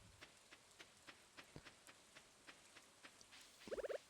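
Faint, steady patter of rain in Stardew Valley on Ginger Island, with light drips ticking at a regular pace, quiet and distant, ending in a brief burst of sharper taps.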